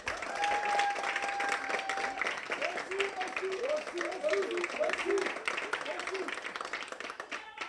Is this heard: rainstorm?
no